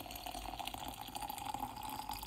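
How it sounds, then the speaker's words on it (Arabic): Hot water poured into a glass jar for a soaking face-wash mixture, a steady close liquid pour with light splashing and trickling running continuously, no voices. "وبعد كده هبدأ انزل عليه بالمية السخنة"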